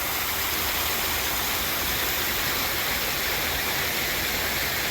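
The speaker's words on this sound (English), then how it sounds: "Love all the waterfalls." Steady broadband rushing of falling water from waterfalls at the St. Louis Zoo, a constant wash of noise without pauses, moderately loud and even throughout.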